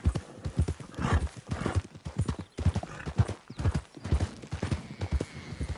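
Horses in Red Dead Redemption 2 clip-clop in a steady, close hoofbeat rhythm throughout, with a whinny breaking in among the footfalls.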